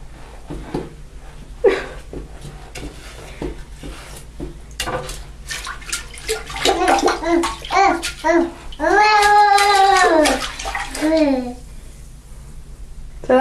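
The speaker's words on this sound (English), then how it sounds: "Flush the toilet." A household toilet flushes with a rushing swirl of water that builds and drains away, while a small child babbles and someone speaks over it.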